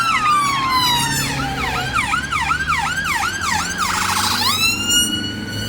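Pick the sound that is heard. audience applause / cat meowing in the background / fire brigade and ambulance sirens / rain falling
fire brigade and ambulance sirens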